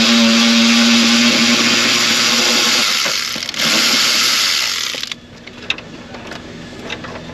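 Power tool or ratchet spinning out a 10 mm fastener inside a 2007 Saturn dashboard with a Honda 3.5L engine, a loud steady whirring drone that dips briefly, resumes, then cuts off into faint clicks and handling noise.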